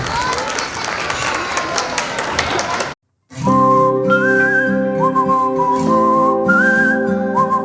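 A crowd at a teachers' tribute and alumni reunion event gives loud clapping and whistling for about three seconds, then cuts off abruptly and gives way to music.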